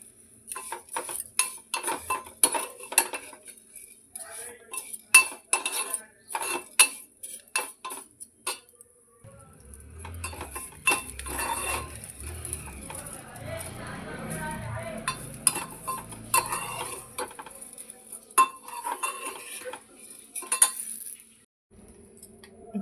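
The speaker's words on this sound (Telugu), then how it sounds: "మనము ఇదే నెయ్యిలో సేమియా వేసుకున్నాము. ఒక ప్యాకెట్ సేమియా సరిపోతుంది. ఇప్పుడు ఇది కూడా మంచిగా ఎర్రగా వేయించుకోవాలి." Vermicelli frying in ghee in a pan for a festival sweet, stirred with a metal utensil that gives repeated clinks and scrapes, with a soft sizzle growing underneath midway through.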